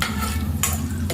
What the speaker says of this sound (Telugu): నేను ఒక 3 కాయలు తీసుకున్నాను, వాటి ఉంచుకొని వేసేసుకున్నాను. ఇప్పుడు కొంచెం ఫ్రై అవ్వాలి.